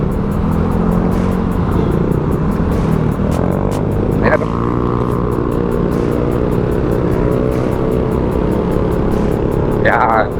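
A Honda Beat Fi scooter engine hums steadily while riding in traffic, a constant close drone with a slight rise in pitch, wind noise throughout and someone talking over it.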